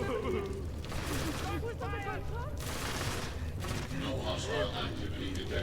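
Gunfire in the video game Deus Ex: Mankind Divided: bursts of rapid shots and crackling fire in the background, running continuously under someone talking.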